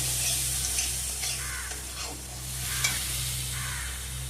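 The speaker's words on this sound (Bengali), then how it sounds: "আর এখানে হচ্ছে মশলা কষানো চলছে" Ginger, cumin, onion and garlic paste with salt and turmeric frying in oil for a singhi fish curry, with a continuous sizzle and soft, intermittent stirring scrapes at close range.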